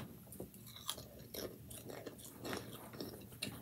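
A seasoned chip is chewed close to the mic, with quiet repeated crunches and bites in an irregular rhythm, the sounds faint and alone.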